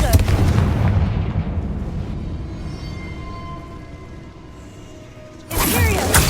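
A Confringo fire spell blasting in Hogwarts Legacy, a loud booming explosion that rolls off into a fading rumble, then a second sharp burst near the end.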